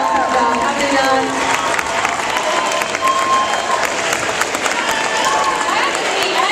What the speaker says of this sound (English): Let's give a round of applause to the girls.